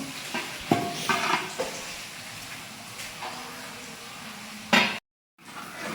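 Onions fry in oil for chicken oil roast, hissing steadily while a few scraping stirs and clinks cut through, then there is a brief pause.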